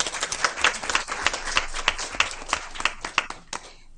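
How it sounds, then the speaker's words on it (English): Audience at a school board meeting claps for several seconds, a scattered round of hand claps with distinct individual slaps that thins out toward the end. "Let's give them a round of applause."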